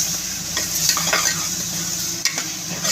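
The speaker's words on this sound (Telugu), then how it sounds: "మా మసాలా అంతా బాగా ఫ్రై చేసుకున్నాను నేను" Masala of ground spices and a spoonful of coconut fries in a pan, a steady close sizzle overlaid with scraping stirs and light utensil taps throughout.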